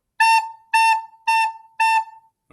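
Four evenly spaced tongued notes on a recorder during a music lesson, bright and steady, played close with short pauses between them and no one speaking.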